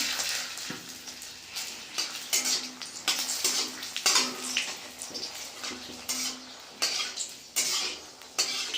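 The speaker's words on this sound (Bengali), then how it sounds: "আমি এখন ফোড়ন দিব দেব ফোড়নে এখনই শুকনো লঙ্কা তেজপাতা" Dried red chillies and bay leaves hit smoking-hot oil for a Bengali mixed-vegetable curry. A steady hiss rises alongside repeated metallic scrapes and clinks of a utensil against the pan, moderately close and with no talk.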